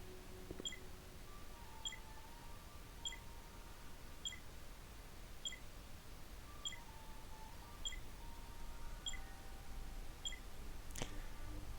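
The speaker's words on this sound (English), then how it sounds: "I don't know why I wanted that beeping to stop" Soft, regular electronic beeps from Star Wars Jedi Knight II: Jedi Outcast repeat about every second over a low hum, with a brief sharper blip near the end.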